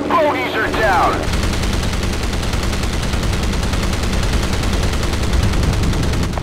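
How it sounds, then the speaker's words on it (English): Naval gunfire in Battlestations Pacific during a Philippine Sea sea battle, with a continuous loud barrage of rapid, overlapping shots and booms after a brief moment of radio chatter at the start. "Enemy fire is being directed at us."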